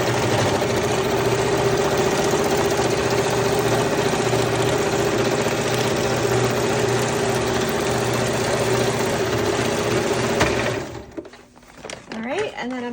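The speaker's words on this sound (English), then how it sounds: "I'm just gonna put this in my sewing machine." A sewing machine stitching through fabric runs with a steady, close mechanical whir for about eleven seconds, then stops, followed by faint handling sounds.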